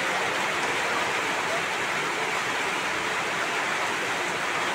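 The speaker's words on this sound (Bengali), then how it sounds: "প্রচণ্ড হারে বৃষ্টি হচ্ছে" Heavy rain pours down steadily, a dense, continuous hiss that stays loud and even throughout with no breaks or distinct drops standing out.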